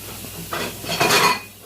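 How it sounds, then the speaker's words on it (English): A utensil scrapes and clinks against a pan while shrimp fried rice is stirred, two short bursts of metallic scraping up close over a faint background hum. "Okay, I'm just gonna stir it."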